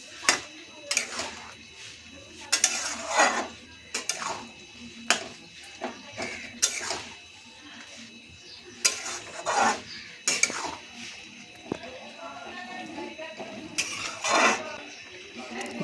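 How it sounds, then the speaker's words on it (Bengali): Boiled pumpkin and drumstick are stirred in a pot of sambar dal, giving repeated scraping, rasping strokes of a utensil against the pot in irregular bursts, with a voice audible at times. "এটা দিয়ে দিলাম, একটু নেড়ে চেড়ে নেব।"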